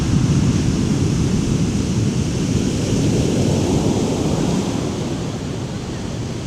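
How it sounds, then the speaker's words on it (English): Powerful sneaker waves crash and surge on Iceland's south coast in winter, a loud, dense roar of surf blended with gusting wind noise that eases slightly near the end. "They're called sneaker waves for a reason, and they're very, very vicious and ferocious."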